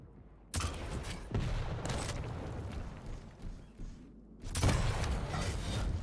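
Rocket launcher blasts in a Quake Open League deathmatch: several loud, thumping bursts in quick succession with short gaps, tails ringing out between shots, close and dominating the mix.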